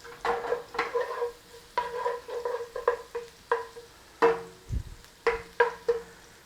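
Garlic and vegetables are stirred in a hot pan, giving a string of close, clattering scrapes and taps in an uneven rhythm over a light sizzle.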